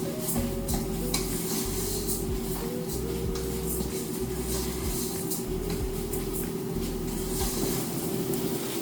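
Rice is sautéed with onion and garlic in a hot pan, giving a steady, loud sizzle with a constant frying hiss and frequent spoon stirs and scrapes throughout, and no talk.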